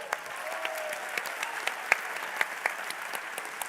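Audience applause at a student event, steady dense clapping at moderate distance with scattered sharper claps standing out, continuing throughout without speech.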